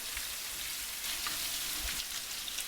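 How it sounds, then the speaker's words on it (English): Ingredients for a sun-dried tomato and artichoke risotto sautéing in a pan, a soft steady sizzle with occasional light stirring scrapes, fairly quiet and close, no talking. "Get to sauteing this for another 2 minutes"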